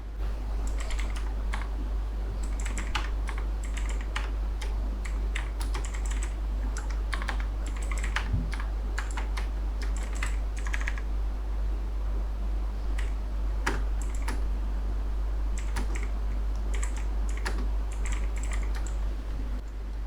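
Rapid, continuous clicking of a computer keyboard as HTML code is typed, close and steady for the whole stretch with small irregular pauses.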